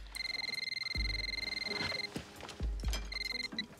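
A telephone rings with repeated electronic trilling bursts, a Lunar New Year family dinner setting, loud and close with thumps and clatter in between before the ringing resumes.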